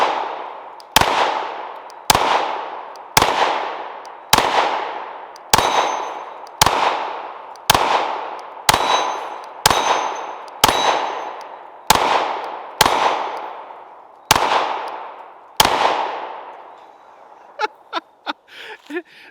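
A pistol fires a magazine of mixed ammunition as about thirteen loud, sharp shots at a steady, unhurried pace, each ringing briefly. A few faint metallic clicks and rattles follow after the last shot.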